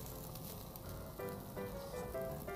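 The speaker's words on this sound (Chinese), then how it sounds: "你看现在这个，肉滋滋滋多漂亮" Slices of top-grade wagyu sirloin steak sizzle on a hot iron teppanyaki griddle, a soft, steady crackling hiss heard close up with faint tonal background sounds over it.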